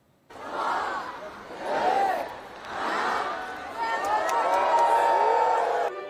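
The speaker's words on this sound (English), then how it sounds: "Crowds packed in along the Champs-Élysées" A large holiday crowd on the Champs-Élysées in Paris at the lighting of the avenue's trees, a swelling roar of many voices in cheering waves, with a nearer voice talking over it.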